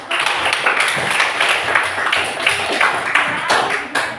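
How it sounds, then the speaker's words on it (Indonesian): A class of students claps together in a classroom lesson, brisk steady clapping that fills the room, fairly loud and close, with a bit of voice mixed in. "Kita berikan tepuk tangan."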